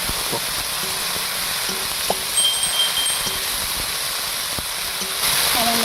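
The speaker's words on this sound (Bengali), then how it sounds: "হলুদ গুঁড়ো, লঙ্কা গুঁড়ো, ধনে গুঁড়ো, জিরে গুঁড়ো, ভালো করে কষিয়ে নেব।" Ground turmeric, chili, coriander and cumin fry in oil with ginger-garlic paste, giving off a steady, even sizzle with faint scraping stirs. The sizzle is close and continuous, with no talking.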